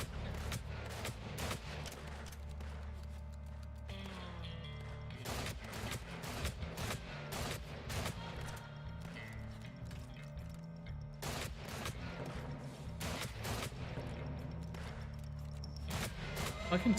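Explosive shell gunfire in Weird West: repeated sharp, loud blasts at irregular intervals across the fight, each a sudden wideband crack over a steady background of game sound, with a voice talking in between.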